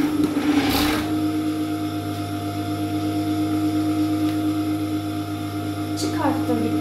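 A sewing machine runs steadily, stitching an organza bomber jacket, its motor hum loud and constant throughout with a brief mechanical rattle near the start and another near the end.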